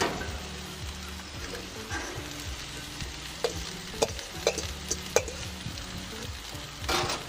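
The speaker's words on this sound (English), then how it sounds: "Hear the sizzle." Vegetables crackle and sizzle steadily in hot oil on a barbecue, with occasional sharp clicks and scrapes of a barbecue-safe utensil stirring them.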